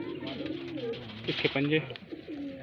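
Pigeons coo in soft repeated bursts, a red-eyed Kalpari hen among highflyer pigeons in Bareilly, while someone talks over them close by.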